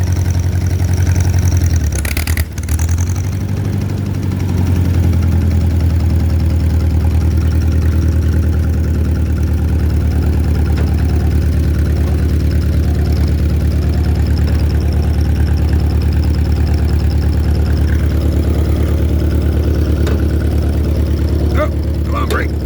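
An old Allis tractor engine idles steadily and loud throughout, a continuous low throbbing rumble with a brief clunk near the start.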